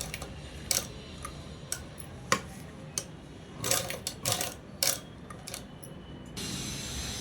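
A sewing machine stitching a child's blouse, heard as short bursts of rapid mechanical ticking and clatter separated by pauses, ending in a longer steady run, close by with no talking.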